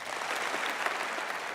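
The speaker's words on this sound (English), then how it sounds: "applause in the hall" Applause in a conference hall during a political speech: a short, even burst of clapping from a large crowd, steady and moderately loud throughout with no voices.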